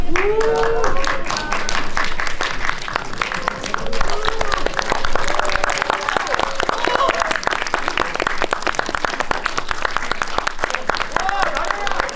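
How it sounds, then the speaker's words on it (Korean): Audience applause greets a film director and cast entering a special guest-visit screening, sustained crowd clapping running throughout with voices and cheering mixed in. "들어오시면 큰 박수 부탁드릴게요"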